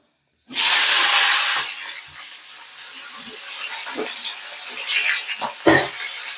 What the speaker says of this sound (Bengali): ফোড়ন দিচ্ছি